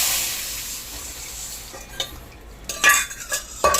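Brinjal chutney (kathirikai chutney) going into a hot pan in a home kitchen: a steady sizzle with scraping utensil and clinking pan sounds, louder bursts near the end, no talking.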